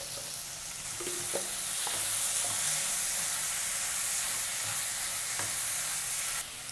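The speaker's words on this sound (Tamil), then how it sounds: "தக்காளியும் இதெல்லாம் வதங்குறதுக்கு கொஞ்சம் உப்பு போட்டுக்கோங்க" Tomatoes softening with salt in a hot pan for a white peas kurma, giving a steady close sizzle and frying hiss with a few soft stirring scrapes, alone without speech.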